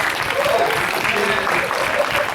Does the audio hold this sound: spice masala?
no